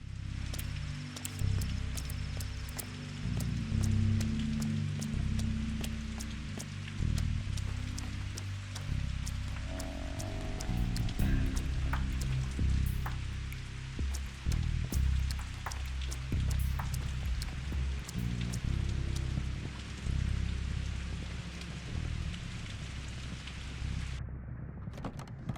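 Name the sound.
rain falling in the video game Pathologic 2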